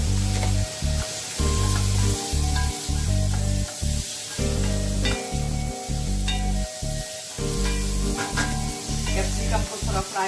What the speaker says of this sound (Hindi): कैप्सिकम को थोड़ा फ्राई होने दीजिए फास्ट गैस से, थोड़ा सौते होने दीजिए कैप्सिकम को।